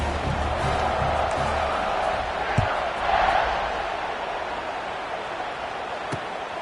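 Football stadium crowd roars steadily after a scoring drive, a broad sustained wash of cheering and chatter with a brief swell in the middle, heard from within the stands.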